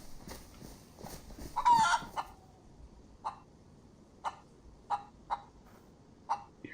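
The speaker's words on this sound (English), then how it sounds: "I'm not going to mess with the chicken." Chicken in the survival game DayZ, a few short clucks and a brief crowing burst scattered at moderate distance over a quiet outdoor background, with spaced, irregular calls.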